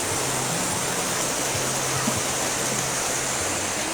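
A river stream flows in a steady, close rush of water on a summer outing, loud and unbroken, with no voices.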